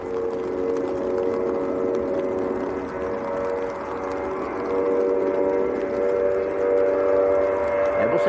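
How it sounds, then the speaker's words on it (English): Finnair Airbus A321 airliner passing over Manchester Airport in horrible weather, a steady droning engine roar with sustained whining tones that swell slightly louder toward the end, continuous throughout. "Here comes Finnair to Helsinki."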